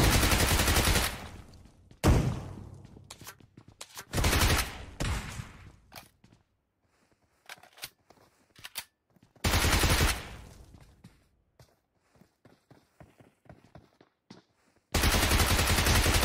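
Repeated shotgun blasts in the mobile battle royale game BGMI, loud bursts of gunfire separated by short pauses with scattered smaller impacts and clicks between them.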